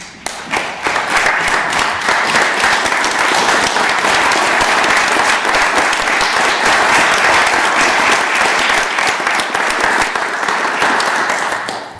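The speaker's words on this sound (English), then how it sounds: "I think it would be appropriate if we would stand and give them a round of applause." The audience at a Williamsport city council meeting gives a loud, sustained round of applause, dense clapping that rises quickly and holds steady for about ten seconds before tapering off.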